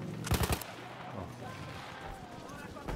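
Battlefield 1 gunfire, a quick burst of several loud shots fired into the air at the start, then low battlefield rumble with a faint further shot near the end.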